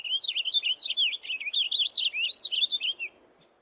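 A songbird sings close by in a rapid, continuous string of high, twittering chirps for about three seconds, then stops, leaving quiet background.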